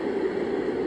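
A deep, hair-dryer-like white noise meant for soothing a baby, a steady, loud, unbroken rush with a heavy low-mid body and no voices over it.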